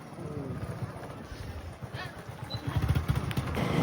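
A motorbike is ridden to the market on a cold day, its engine a steady, close rumble mixed with road and wind noise that grows louder toward the end.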